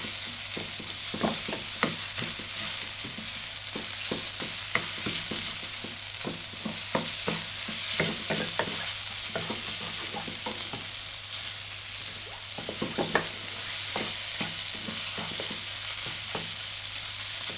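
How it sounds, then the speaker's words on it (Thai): Minced pork and shallots stir-fry in a pan with a steady sizzle, while a utensil scrapes and taps the pan in irregular clicks throughout, with no talking. "ใส่หมูสับลงไปค่ะ ผัดให้เข้ากันดีค่ะ"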